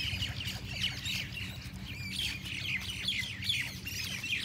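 Birds squawk and chirp repeatedly while feeding on scraps outside a university hostel, their sharp calls fairly faint over a low background murmur.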